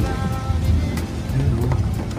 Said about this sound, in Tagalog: Wala nang tigil, kakaulan.